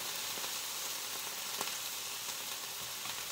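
Vegetables for paella browning in a frying pan, a soft steady sizzle with faint crackles throughout, no voices.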